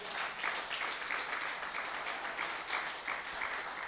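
Church congregation applauding, a continuous dense wash of many hands clapping with slight swells, moderately distant and steady throughout without clear speech.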